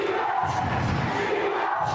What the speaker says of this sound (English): Crowd loves it right now.